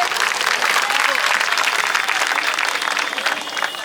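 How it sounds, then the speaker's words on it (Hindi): Dense crowd applause fills a rally for a Shiv Sena (Uddhav) candidate of the INDIA alliance, steady and loud throughout with no gaps. "एक जोरदार तालियों के साथ ताली का इस्तेमाल करते हुए"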